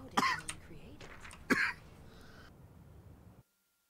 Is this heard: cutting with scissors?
no